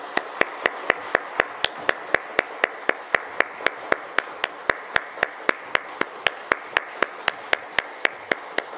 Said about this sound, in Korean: 우리 박수로 기도하겠습니다.